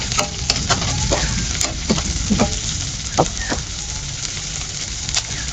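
Sliced onions are sautéed in hot oil in a pan for bangus sinigang, giving a close, steady sizzle broken by repeated scraping stirs and clinks of a utensil, with no talking.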